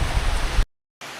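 Steady rain at a prairie campground, a dense broadband patter that fills the first half second or so, cuts out abruptly to silence, then resumes at a lower level.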